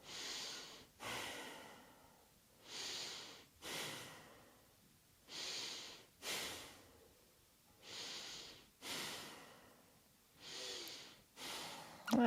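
Slow, deep yoga breaths repeat in an even rhythm, about eight airy inhale-exhale swells close to the microphone, each rising and fading, with no talk over them.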